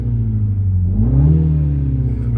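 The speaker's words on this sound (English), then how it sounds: "when we rev the engine" A 2023 Mini Countryman John Cooper Works with a 2.0-litre 306 PS engine revs in sport mode, a steady low rumble rising in pitch midway and holding, loud and close with no talk.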